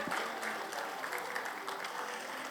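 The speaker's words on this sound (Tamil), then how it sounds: "கைத்தட்டல்கள் கொடுத்துடலாம் இல்லையா?" An audience at a book launch event in Chennai gives dense, continuous applause, steady and even throughout without voices on top.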